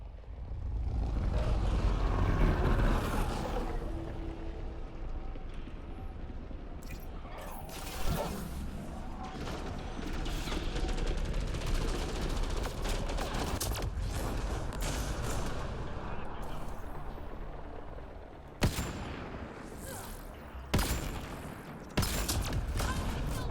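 Heavy, continuous gunfire and booming biotic explosions rumble through a firefight in the video game Mass Effect: Andromeda, with a few sharper blasts near the end.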